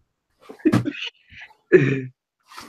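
A person sneezes twice, close and sharp, with short bursts of breath around them in an otherwise quiet room.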